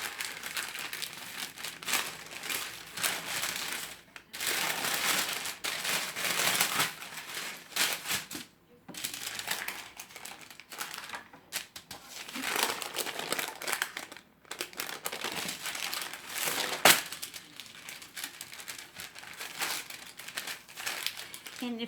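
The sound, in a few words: peeling parchment paper off pinwheel cookie dough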